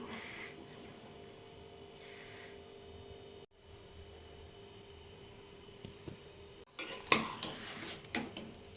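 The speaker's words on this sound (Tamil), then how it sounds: "அப்படி நல்லா கிளறி விட்டுக்கலாம் கிளறி விட்டு பரிமாறிக்கலாம்" Vegetable rice being stirred in a pressure cooker, with faint clinks and scrapes of a utensil against the pot over a steady low hum, growing louder with sharper metallic knocks toward the end.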